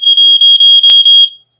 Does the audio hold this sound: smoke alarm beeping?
yes